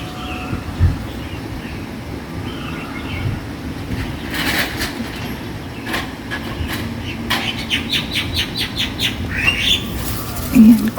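Wild birds chirp and squawk noisily in a rural mountainous province, with repeated tweets and calls over a steady background rumble, while a cook gathers taro outdoors.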